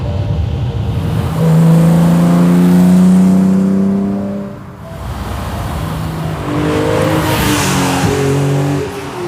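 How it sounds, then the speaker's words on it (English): A 1980 BMW M1 engine drones at steady revs, dips as the car downshifts, then a throttle blip leads into a fresh rising pull, loud and close from inside the car with no talking. "on the downshift it's very important to put a nice big clean heel and toe blip on the accelerator before releasing the clutch to engage that lower cog"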